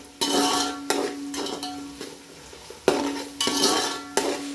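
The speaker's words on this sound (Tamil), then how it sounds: "வெங்காயம் வந்து நல்லா வதக்கிக்கலாம் ஃப்ரெண்ட்ஸ்." Onions sautéed over full flame in a pan until golden brown for iftar kichdi: repeated close spatula scrapes and metallic clinks against the pan, with a faint steady hum underneath and no voices.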